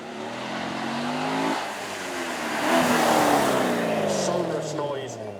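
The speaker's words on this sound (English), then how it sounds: "Huge engine at the front, over 6 litres of V8 power at the front, all being sent to those rear wheels." A Chevrolet Corvette with a front-mounted V8 of over six litres driving the rear wheels accelerates past at a supercar event, a rising engine note swelling as it nears, then fading with tyre noise and crowd ambience.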